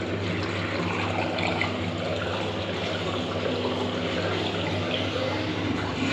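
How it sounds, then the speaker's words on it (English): Water runs from sink taps into shared drain pipework during a late-night call-out to an overflowing urinal waste, making a steady, even rushing hiss with no breaks and no talking. "I also ran all the sinks because I know they're connected into the same pipework"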